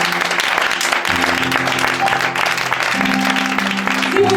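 A church congregation applauding to acclaim the Lord: steady, dense clapping from many hands that fills the room, with a sustained musical tone underneath.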